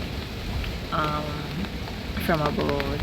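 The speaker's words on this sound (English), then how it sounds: "We have successfully been getting rain and wind" Steady rain with gusting wind from Hurricane Melissa, a continuous outdoor wash of noise with brief voices speaking over it partway through.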